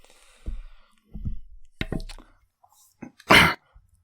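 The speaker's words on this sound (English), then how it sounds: "I had to fucking cough my lungs out" A person coughs repeatedly in a fit of several separate bursts, close to the microphone, building to one loud harsh cough near the end, with no talk over it.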